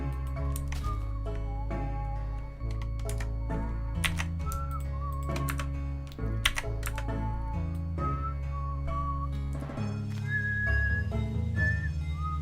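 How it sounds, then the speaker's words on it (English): A person whistling in short, wavering high notes over steady game music and clicky keyboard tapping, the whistle fairly faint and intermittent across the stretch. "I still can't really whistle that well, and whistling makes my mouth ache really fast."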